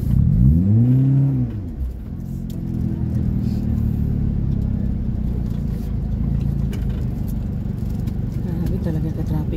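Road traffic by a market, with a car engine revving and a vehicle passing close at the start, then a steady rumbling engine drone under ongoing talk.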